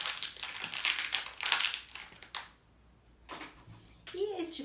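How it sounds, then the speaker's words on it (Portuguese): A plastic cup is crushed in the hand, giving a dense run of crinkly, crackling snaps for about two seconds; a short quiet follows, then a voice speaks. "É um som de um copo plástico quando ele é amassado"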